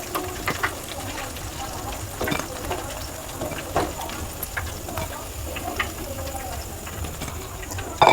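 Snacks fry in hot oil in a kitchen, a soft steady bubbling sizzle with scattered faint clicks and utensil taps, close but fairly quiet, ending in a short louder knock.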